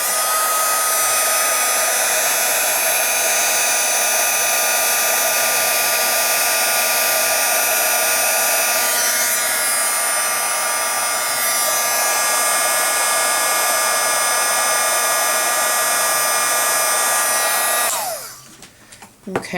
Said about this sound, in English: you basically are going to take your heat gun and set it